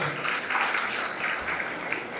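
An audience at a Vinayagar Chaturthi debate event at a college claps steadily throughout, a dense even patter of many hands with no break and no voices above it.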